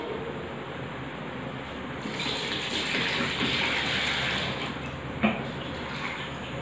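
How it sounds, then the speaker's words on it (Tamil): About five litres of water gushes steadily into a container for a few seconds, a rushing splash close by, ending with a soft knock. "இதில் இப்போ நம்ம கரெக்டாக ஒரு 5 லிட்டர் தண்ணி ஊற்றிக்கலாம்."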